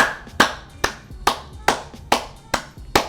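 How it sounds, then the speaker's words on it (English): Eight sharp hand claps at an even, unhurried pace, close and loud with brief gaps between each. "I gotta give some claps because,"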